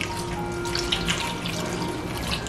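Coconut milk pours into a cooking pan for a Sri Lankan anchovy sothi, a steady liquid trickle and splash running continuously at moderate level, no talking.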